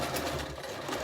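A sewing machine stitches a tailor's ham in a rapid, continuous whirring run, close and steady for the whole moment.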